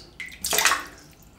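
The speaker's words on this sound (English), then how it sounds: "I'll just put some water in that and I'll put the brush into the water." Water splashes briefly into a shaving soaker bowl meant for a shaving brush, a short close pour that swells and then trails off, with no talking.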